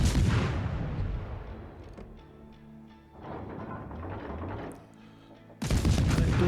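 Warship main guns fire in World of Warships with the destroyer Gremyashchy: deep booming blasts open and close the stretch, with rumbling low thuds and a sustained engine-like drone between them, loud and close.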